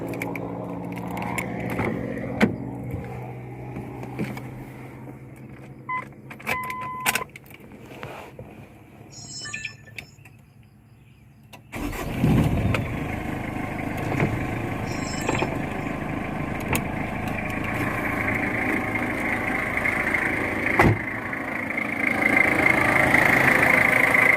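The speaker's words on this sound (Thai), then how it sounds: "เดี๋ยวมาฟังเสียงเครื่องยนต์กันนิดนึงนะครับ" A 1999 Mitsubishi Strada 2.8 4x4 pickup truck engine idles steadily nearby with a low rumbling drone, and a few clicks and knocks are heard early on.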